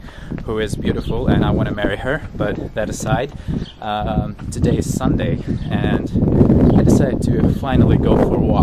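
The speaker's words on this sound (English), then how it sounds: "I'm sorry for the wind, by the way." Wind buffets the microphone outdoors on a walk in central London, a steady low rumble running beneath continuous close talking throughout.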